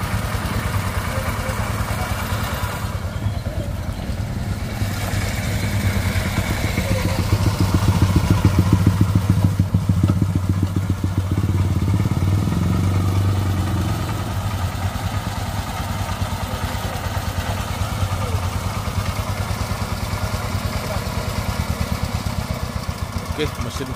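A heavy diesel engine runs steadily at idle, a close, continuous rumbling chug with a brief swell in loudness midway through.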